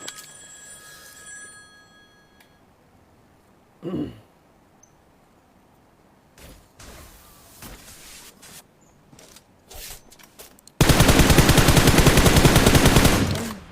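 A sudden sustained burst of rapid automatic gunfire in PUBG Mobile, loud and continuous for a few seconds after quieter clicks and scattered sounds.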